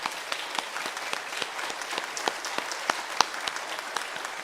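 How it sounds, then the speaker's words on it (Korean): A church congregation at an Easter service applauds steadily, many hands clapping at once, with a few sharper claps standing out. "여러분 격려의 박수 한번 주시기 바랍니다"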